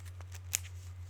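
A brief soft riffle of a card deck being shuffled during a Marvel Champions card game, faint and quick over a low steady hum, with no talk.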